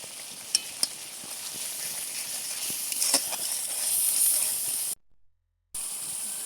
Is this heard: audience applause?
no